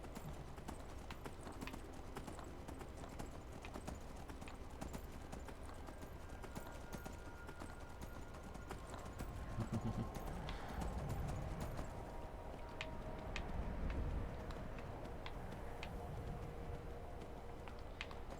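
Horse hooves clip-clop in a steady rapid rhythm in the video game Skyrim, heavier thuds surging midway, with no talking over them.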